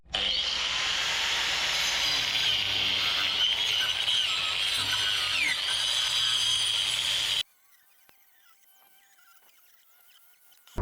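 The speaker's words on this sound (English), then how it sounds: "I've got this aluminium cutting disc on the angle grinder. It works a treat." An angle grinder fitted with an aluminium cutting disc screams loudly and steadily for about seven seconds, then cuts off abruptly, leaving near silence with faint small clicks and a brief noise at the very end.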